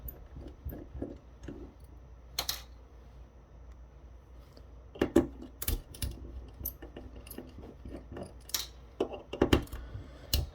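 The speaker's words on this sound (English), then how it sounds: "I'm going to take apart the case" The plastic case of a Presidian LED light-up message fan is pried apart, giving sparse close clicks, snaps and sharp cracks scattered irregularly, with quiet gaps between them and no voices.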